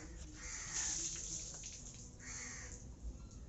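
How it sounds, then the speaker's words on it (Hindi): Tap water runs into a tub filling for a dog's bath, a soft steady rush with brief splashy swells, faint and close, with no talk. "पानी भर रहा है"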